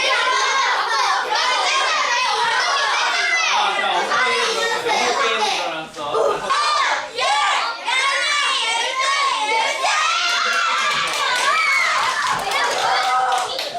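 A classroom of children boos and cheers during a team balloon-bouncing game, a loud, continuous jumble of excited young voices shouting and chattering over each other.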